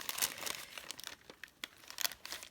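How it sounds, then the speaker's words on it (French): Paper being torn by hand for an art journal page, a close series of crisp rips and crinkles with short pauses, fairly faint and heard alone. "je peux déchirer ça"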